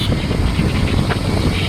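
A large airplane passes overhead near Koteshwar, making a loud, unbroken, full-bodied engine roar that fills the whole short stretch with no pauses.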